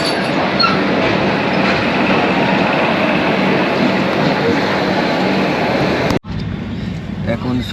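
A passenger train, the Upasana Express, rolls loud and steady through Patna Junction station, wheels rumbling continuously with faint clatter, then a brief sharp dip as it passes a structure before the roar resumes.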